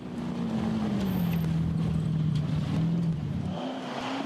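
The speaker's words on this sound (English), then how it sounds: "Another monster of the rally, the Mercedes 500 SLC with more than 320 horsepower" A Mercedes 500 SLC rally car of more than 320 horsepower roars at a rally, its loud engine holding a steady, wavering drone before easing off near the end, with no voices.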